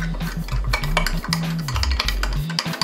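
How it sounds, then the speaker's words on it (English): A utensil stirs Garden of Life Super Seed supplement powder into a liquid in a cup, making continuous close, fast scraping and clinking with a steady rhythmic swirl throughout. "Stir it around."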